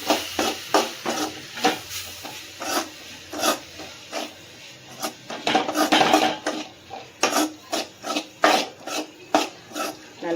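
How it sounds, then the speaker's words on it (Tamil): A utensil repeatedly scrapes and stirs masala with chilli powder sautéing in a pan, giving steady rhythmic metallic rasps and clinks with a faint sizzle beneath, close and clear, with no talking. "கலந்து விட்டு வதங்க விடலாம்"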